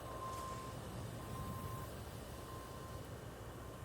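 A dump truck backs up in a video game, its reversing alarm giving evenly spaced high beeps over a constant low engine rumble, with no talk.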